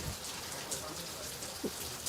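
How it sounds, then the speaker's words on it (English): Steady rain falling at an outdoor pool during a pool freediving championship in Singapore, a soft continuous hiss of drops with faint scattered patters, fairly quiet and unbroken throughout. "And now it's raining."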